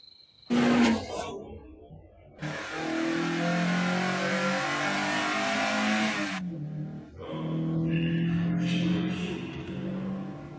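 A car engine revs loudly and roars for several seconds, drops off, then revs up again, close and aggressive.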